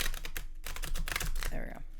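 Tarot cards being shuffled during a new moon reading, a soft rapid riffling and flicking of cards close to the microphone, brief bursts of papery clatter that end with a card pulled free.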